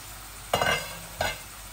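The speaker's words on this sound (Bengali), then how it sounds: "একসাথে ভাজা ভাজা হবে, বুনা হয়ে যাবে।" Two short bursts of loud sizzling as chicken giblets are stirred in a hot pan, separated by a brief lull, with no talking.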